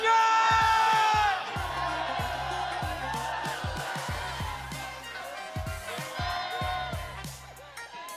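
A packed esports arena crowd at an MPL Philippines Season 17 playoff match erupts in loud cheering and whooping, a big roar at first that settles into sustained cheers under a rhythmic thumping beat.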